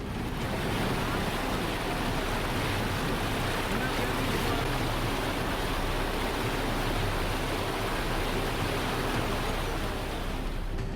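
Floodwater pours over a bridge in Tamil Nadu during heavy rains, with about 7000 cubic feet of water crossing it. It makes a loud, unbroken, broadband roar of rushing water with wind-like hiss, steady throughout with no talk.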